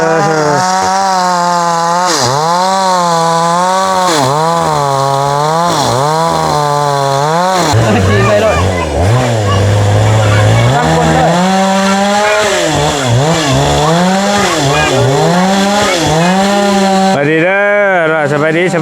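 A chainsaw cuts timber outdoors on newly acquired land, its engine loud and steady throughout with repeated rising and falling revs as it bites through the wood.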